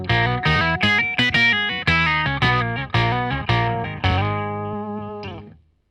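Electric guitar through a Sonicake octaver mini pedal set two octaves below, a rapid run of distorted, heavily sub-toned notes, then a held final chord fading out, loud and close without talk.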